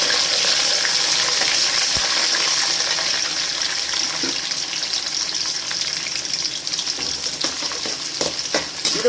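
Chana dal and garlic frying in hot oil for tamarind rice, giving a loud, steady close sizzle with bubbling and faint stirring clicks throughout.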